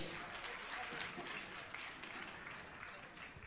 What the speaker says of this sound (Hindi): मैं चाहूंगा आप जोरदार ताली बजाकर इनका सम्मान करें।